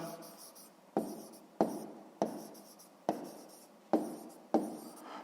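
A pen writes on paper during a sixth-grade maths exercise about scale, heard as seven or eight sharp taps, each followed by a short scratching stroke, in a steady rhythm. The sound is close and clear, with no talking.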